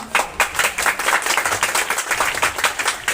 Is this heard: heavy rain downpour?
no